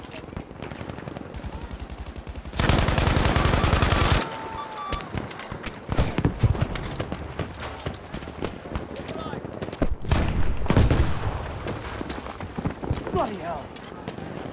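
Battlefield V multiplayer gunfire: sustained bursts of close automatic fire with scattered single shots and footsteps, under occasional voice chatter.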